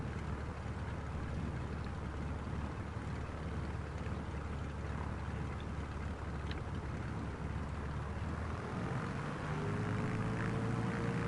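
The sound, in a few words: airplane engine in a flight simulator video game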